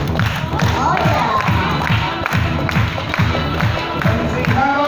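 An audience at a Florida State Fair show claps along in a steady, rhythmic beat as crowd noise continues, with an amplified voice talking over it.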